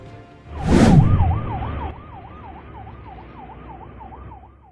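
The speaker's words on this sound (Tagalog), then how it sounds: "Ang malakas na wangwang na yan ay tinatawag na Long Range Acoustic Device o LRAD." A Long Range Acoustic Device (LRAD) siren warbles loud and piercing in a rapid repeating oscillation, opening with a harsh blast of noise and then holding steady over low rumbling background.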